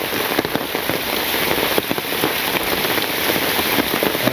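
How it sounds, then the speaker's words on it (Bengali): Steady rain falls on a village on a rainy day, a dense, loud, continuous patter of drops on surfaces close by, with no voices. "মাঝে মাঝে বৃষ্টি হওয়া ভালো।"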